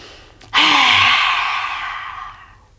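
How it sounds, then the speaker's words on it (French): Forceful open-mouthed yoga exhale with the tongue stuck out, lion's breath: a single long breathy rush that starts abruptly, holds strong, then slowly fades over about two seconds, close and alone. "Respiration du lion."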